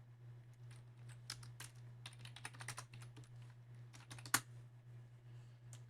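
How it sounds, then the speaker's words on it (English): Keys are pressed on a TI-Nspire calculator, giving faint, quick plastic clicks in short irregular bursts over a low steady hum, with no speech. "And I'll go ahead and type that into my calculator."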